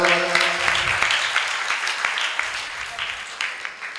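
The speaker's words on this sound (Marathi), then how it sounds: "कृपया सर्वांनी टाळ्या वाजवाव्या" An audience at a felicitation event at a temple in Nanded claps steadily, a dense sustained patter of many hands throughout, fairly loud and close.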